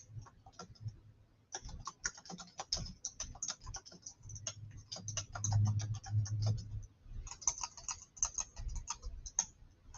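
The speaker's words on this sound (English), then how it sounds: "Can y'all hear me typing?" Fingers clatter across a computer keyboard in quick irregular bursts of crisp clicks, close and fairly quiet, with short pauses and a low hum beneath, no talk.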